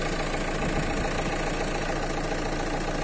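A Renault Scenic 3 diesel engine idles after an injector seal replacement, a continuous, even low rumble with a steady mechanical hum and no talking.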